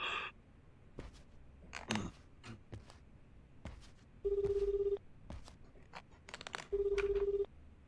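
A phone rings in the video game Like a Dragon: Infinite Wealth, two steady electronic ring bursts with a pause between them, over faint ambient game noise and scattered clicks.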